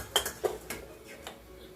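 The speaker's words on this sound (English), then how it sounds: "we're going to take our bowl, put the broccoli in" Broccoli is spooned into a bowl: several light clinks and knocks of a spoon against the dish come in a quick, uneven run, close and fairly soft.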